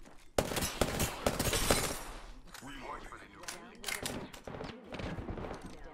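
Rapid gunfire in the video game Apex Legends, dense automatic bursts and single shots crackling close, with a player talking over the shooting.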